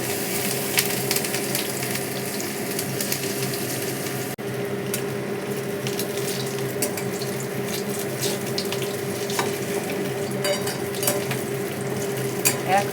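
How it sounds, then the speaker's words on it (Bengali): Batter-coated stuffed pointed gourds fry in hot oil in a kadai, producing a loud, continuous bubbling sizzle with occasional crackles and light clinks. "তেল গরম করে ভাজতে হবে।"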